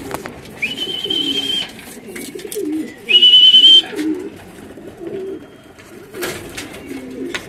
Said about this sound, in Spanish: Ya empezaron a llegar las palomitas.